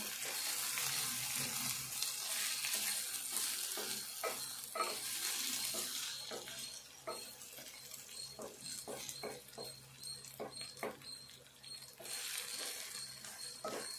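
Cabbage curry sizzles and fries in a pan while a spoon stirs it, with soft scraping and clinks against the pan's bottom over a continuous hiss.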